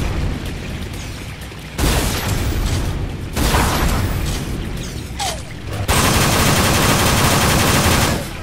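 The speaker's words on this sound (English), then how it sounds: "Using the flak cannon, even though I have other weapons with plenty of ammo." Flak cannon firing in the shooter game Unreal, loud bursts of heavy blasts and rapid explosive fire in long dense stretches separated by brief lulls, close and harsh.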